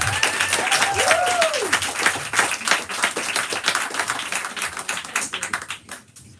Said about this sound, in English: please give a round of applause for our star tonight, Anne Whitney Pierce.